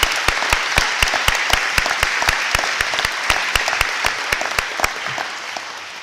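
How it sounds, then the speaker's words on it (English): Applause from an audience at a fourth grade school celebration, steady dense clapping with a few louder individual claps standing out, sustained and gently fading over several seconds. "Yes, that deserves a round of applause."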